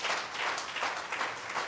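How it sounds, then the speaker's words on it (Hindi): Audience applause at a Teachers Day business seminar in Lucknow, a continuous even patter of clapping, moderately loud and steady for the brief moment. "एक बार जोरदार तालियां आप सब के"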